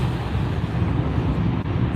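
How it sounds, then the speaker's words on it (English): A Boeing 737 jet passes overhead at an airport on a clear day, a steady dense low roar that holds loud and even throughout, heard alone without talk. "737 Thunder on a cloudless day."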